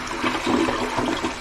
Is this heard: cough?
no